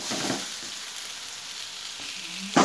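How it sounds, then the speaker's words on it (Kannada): Cabbage and carrot frying for egg noodles, a steady, even hiss of sizzling oil close by, with a faint stir near the end and a sharper clatter in the final moment. "ಈಗ ನಾನು ಕ್ಯಾಬೇಜ್ ಹಾಗೂ ಕ್ಯಾರೆಟ್ ಅನ್ನು ಆಡ್ ಮಾಡ್ತಿದ್ದೇನೆ ಇದನ್ನು ಸಹ ಚೆನ್ನಾಗಿ ಫ್ರೈ ಮಾಡೋಣ"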